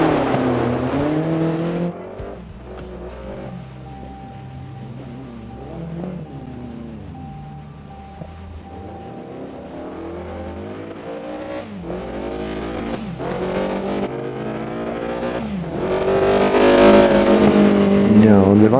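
A BMW E30 M3 EVO rally car engine in DiRT Rally 2.0, running rough after damage, droning and revving through gear changes and rising to a loud wail at the end, with someone talking over it.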